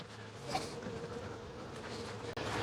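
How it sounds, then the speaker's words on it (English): Bees fly around an open hive as a faint, steady buzz that continues throughout, with a brief dropout near the end. "there's quite a few bees flying over there"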